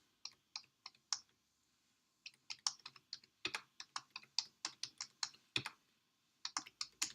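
Keys clatter on a computer keyboard in quick bursts of crisp, close clicks, with brief pauses between runs of typing.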